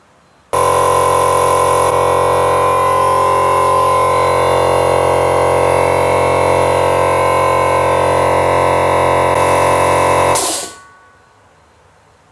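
An electric air compressor kicks on abruptly and runs with a loud, steady, buzzing motor drone for about ten seconds, then cuts off sharply into near silence.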